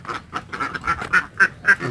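Solo laying ducks in a farm pen quack in a rapid repeated series of nasal calls, with roughly seven distinct bursts that grow louder toward the end, close by and with no talk over them.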